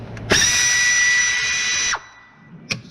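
Power tool spinning out 10mm timing cover bolts during head gasket disassembly on a Subaru engine: one loud, close, high-pitched whine lasting about a second and a half, stopping abruptly, then a short clack.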